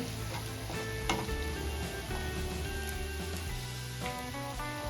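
Ginger garlic paste sautéing in a pan for chicken bun filling, a steady close sizzle and fry with occasional stirring scrapes, continuous and fairly loud with no talking.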